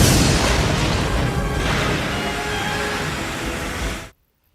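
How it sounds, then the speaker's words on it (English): A starship engineering section is rocked by an explosion effect, a loud, dense roaring rumble that fills the space for about four seconds before cutting off abruptly into silence. "Another explosion rocks engineering."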